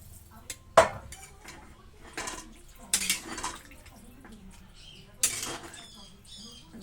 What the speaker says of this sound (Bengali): পনির সবজির সাথে এবার জল দিয়ে দেব।